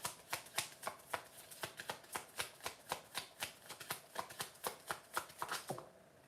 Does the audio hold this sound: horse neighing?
no